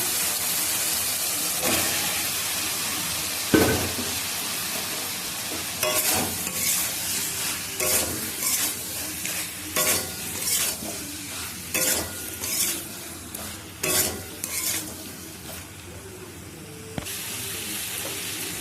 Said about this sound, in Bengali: এবার আমি আলু আর পটলটা দিয়ে দেবো এর মধ্যে